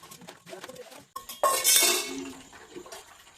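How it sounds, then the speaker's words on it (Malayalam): Dishes and cutlery clink and clatter close by, with a burst of running water splashing in the middle; no one speaks. "നമ്മൾ വിജയകരമായിട്ട് പാത്രങ്ങളെല്ലാം കഴുകി കഴിഞ്ഞിരിക്കുന്നു"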